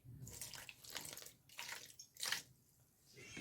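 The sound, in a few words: water poured into batter mixture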